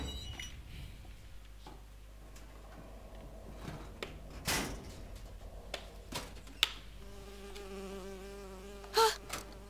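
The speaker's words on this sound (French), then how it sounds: "Une abeille. J'ai horreur de ça." A bee buzzes in BioShock Infinite, a thin wavering drone that comes and goes over a low steady game hum, with a few sharp clinks and a brighter burst near the end.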